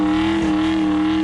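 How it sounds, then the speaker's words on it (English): A car engine at a car show with a burnout pad holds a steady, loud, droning rev for just over a second, close and unbroken. "Drivers can bring out their own rides and rip up the burnout pad"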